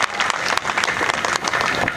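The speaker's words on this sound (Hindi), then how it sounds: "तालियों से स्वागत किया" A crowd at an evening poetry program in Maharajganj applauds to welcome a poet, dense steady clapping filling both seconds with no talk on top.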